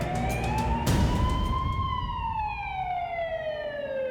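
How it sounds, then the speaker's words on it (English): An ambulance siren wails loudly, its pitch sweeping slowly up and down over passing traffic noise. "The ambulance arrives within minutes"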